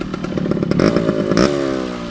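A 1978 Yamaha DT100 motorcycle's small two-stroke engine running up close, loud and buzzing, with a short rev that rises in pitch before settling back to a rapid idle.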